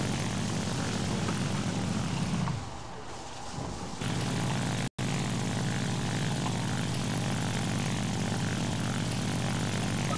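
Propeller aircraft engine in the War Thunder video game drones steadily and loudly throughout, with a brief dip in the middle and a sharp cut near five seconds, no voices.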